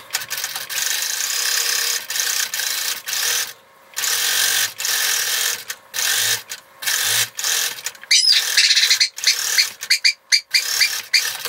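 Home sewing machine stitching the face piece of a fabric balaclava, loud rapid mechanical bursts stopping and starting in short runs, with brief pauses between.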